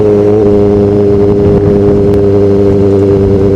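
Steady engine drone from a Kawasaki Ninja ZX-4RR sport motorcycle, heard while riding, with a constant low hum and wind noise throughout and no talk.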